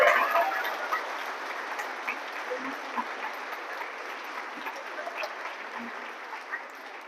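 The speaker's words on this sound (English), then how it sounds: "let's give him a round of applause for that" Audience at a food bank's 40th birthday presentation claps steadily and evenly for an award recipient, a sustained room-filling patter that gradually softens.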